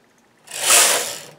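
A knitting machine carriage sweeps once across the needle bed in a single rising and fading mechanical rasp, close and fairly loud, with quiet before it.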